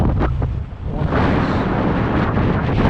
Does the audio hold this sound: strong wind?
yes